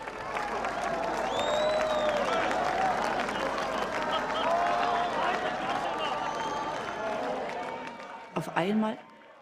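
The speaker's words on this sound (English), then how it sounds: "West Berliners had come to the border and they were applauding us" A crowd of West Berliners at the border wall in 1989 applauds and cheers in a dense, sustained wash of clapping, with voices calling out and talking mixed in, fading near the end.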